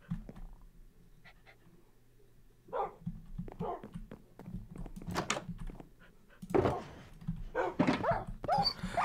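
A dog in the video game Minecraft panting, whimpering and giving short barks in scattered bursts, close and fairly quiet, with gaps of near silence between the sounds.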